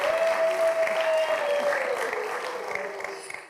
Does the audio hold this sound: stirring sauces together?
no